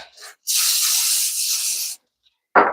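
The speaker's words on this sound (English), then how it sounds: "So I'm going to spray the top of mine with some Pam so it doesn't stick too much" Pam cooking spray misted over the top of enchiladas in a home kitchen: one close, loud aerosol hiss lasting about a second and a half, then a short second spurt at the end.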